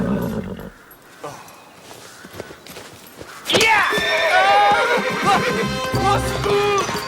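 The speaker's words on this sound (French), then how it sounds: "Le cheval bougera uniquement si vous lui en donnez l'ordre, prince." Footsteps and hoof clatter come first, then a horse lets out a loud, shrill whinny that trails into snorts and further neighing.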